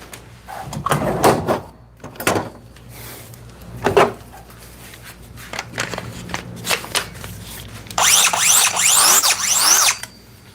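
Blades being sharpened with a power tool, heard as scattered handling clatter and short bursts followed by a loud harsh grinding whir near the end, with no talking.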